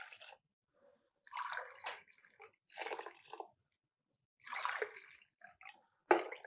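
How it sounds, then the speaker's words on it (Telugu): Water is poured in several separate bursts into white rice and lentils for cooking, each splashy pour fairly close and clear, with quiet pauses in between. "ఎక్కువ వాటర్ వేసేసుకోండి"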